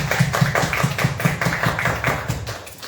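A church congregation claps in unison during a worship service, a steady rapid rhythm of close, moderately loud handclaps with no pauses.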